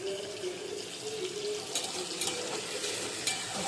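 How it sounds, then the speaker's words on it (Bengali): Shrimp fry in hot oil in a pan, giving a soft, steady sizzle with a few light clinks of stirring, close and moderately quiet. "চিংড়ি মাছগুলো আমি ভেজে নিচ্ছি তেলে।"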